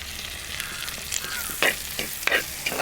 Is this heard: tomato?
yes